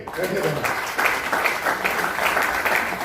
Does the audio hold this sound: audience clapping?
yes